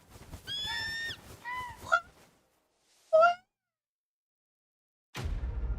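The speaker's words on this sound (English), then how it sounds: "We got a bird, chat. We got a bird. Quack, quack." A bird in Final Fantasy 16 gives several loud honking calls in short bursts with pauses between, followed by a sudden noisy burst near the end.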